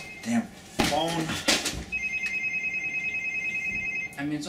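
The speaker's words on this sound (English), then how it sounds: "Phone." A telephone rings late at night with a steady trilling bell tone, nearby and fairly loud, between brief spoken lines from people in a room.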